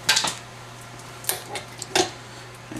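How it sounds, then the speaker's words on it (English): A spatula scrapes down a mixing bowl of pumpkin chocolate chip cake batter, giving a few short, light scraping and clinking strokes spaced apart over a steady low hum, with no talking. "So I'm just going to clean the bowl, or scrape it down, put it in the middle there"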